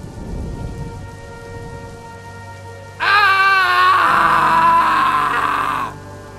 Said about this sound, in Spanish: Esa tarde nos quedamos dormidos bajo el sonido de aquella lluvia.